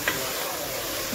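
Country chicken curry with onion and salt being stirred in a pan, a soft scraping stir over a steady low sizzle, close and brief with no talking.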